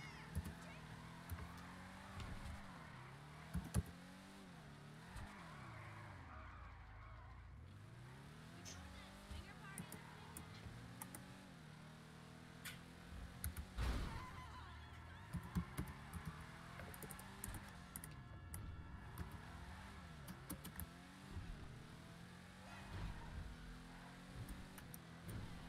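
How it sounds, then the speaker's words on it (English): A car engine in a video game hums and revs in repeated rising and falling sweeps, fairly faint and sitting under bursts of players talking, with a few sharp bumps along the way. "My engine does not sound happy."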